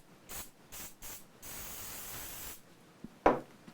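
A spray can of accelerant spritzes onto a Hartwood 335-copy guitar in three short close bursts, then one longer steady hiss, followed by quiet handling and a sharp knock.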